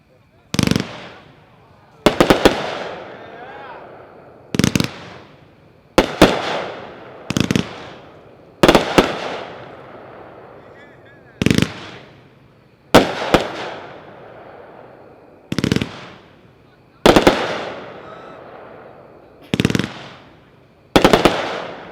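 A Pyroland Stiletto Knights firework cake fires its 42 shots as a series of sharp, loud bangs in separate bursts, each followed by a crackling tail, spread over about twenty seconds outdoors.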